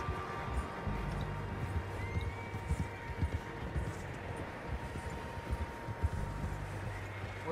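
Horses gallop with steady low clip-clop hoofbeats as a gang rides out in the Red Dead Redemption 2 video game, a continuous rumbling rhythm across the whole stretch with no talk.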